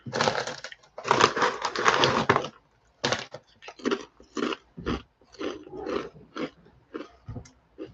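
Several dogs make noise indoors, a run of rough, growly bursts coming in uneven clumps with short pauses between, moderately loud in the background.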